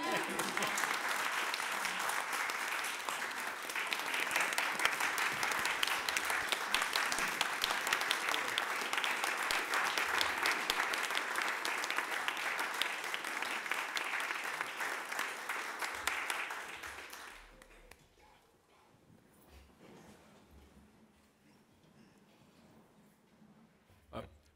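A board meeting audience gives sustained, broad applause for about seventeen seconds, then it drops away to a quiet room with faint rustling.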